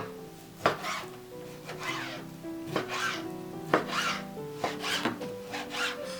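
A knife repeatedly slices beef into cubes on a cutting board, a rhythm of scraping strokes and soft thuds, close up, with no talking.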